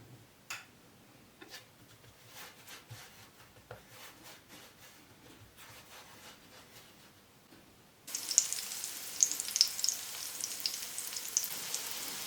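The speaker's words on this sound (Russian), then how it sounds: "Обжариваем 1-2 минуты с каждой стороны до золотистой корочки" Syrniki, cottage cheese pancakes, frying in a pan give a quiet crackle with scattered small pops, then a brighter, louder sizzle with sharp spits in the last few seconds.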